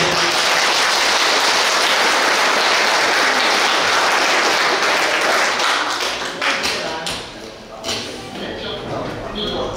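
Loud, sustained applause from the audience at a Hungarian Chinese association merger gathering, dense clapping filling the room and then tapering into scattered claps with some chatter toward the end.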